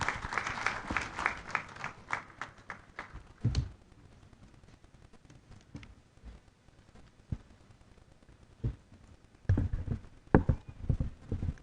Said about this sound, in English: With a round of applause, help me welcome Professor Johnson Nyakon Boampong.